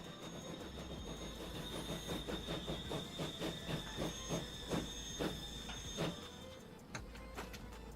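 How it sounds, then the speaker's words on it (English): A small steam locomotive, class 222 with every wheel coupled to a piston, runs steadily in the Transport Fever 2 video game, its rhythmic chuffing and wheel clatter repeating at an even pace over a low rumble, with no talking. "It's quite a nice little train, isn't it?"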